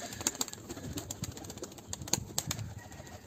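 Pigeons in a loft coo softly while sharp wing flaps and scuffling clicks break in at an irregular pace, close by and fairly quiet.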